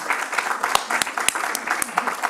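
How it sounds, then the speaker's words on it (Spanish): Audience at a feminism lecture series event applauds steadily, a continuous patter of many hands clapping with a few sharper individual claps standing out near the front. "Por favor, aplaudan todos los que crean que merece el Premio Nacional de Literatura."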